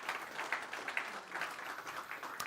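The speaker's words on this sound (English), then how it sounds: "Let's just start with a nice big round of applause." A round of applause rises from the audience at a Betway SA20 cricket league event, fairly faint and distant, a continuous patter of many hands clapping with no talking on top.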